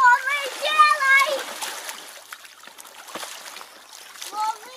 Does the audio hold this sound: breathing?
no